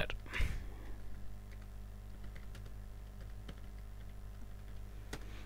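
Keystrokes on a computer keyboard, sparse and fairly quiet, with a louder burst of clicks near the start and a few scattered taps afterward over steady room hum.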